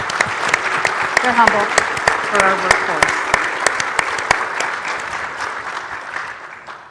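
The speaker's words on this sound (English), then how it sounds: "give them a round of applause for all they're doing" A conference audience applauds faculty members in a burst of dense, close clapping that gradually thins and fades, while a speaker talks over the noise.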